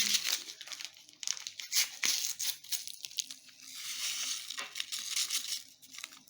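Crisp crinkling and rustling of a small paper packet of vanilla sugar being handled and torn, a busy run of close, quiet crackles with no talking.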